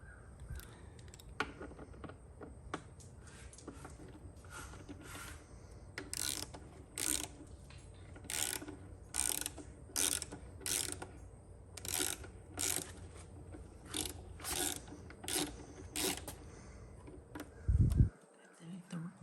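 Ratcheting clicks from a T45 torque driver hand-tightening a bolt on a Harley-Davidson Low Rider ST motorcycle, steady rhythmic bursts of close metallic ticking repeated about every second, with someone speaking quietly.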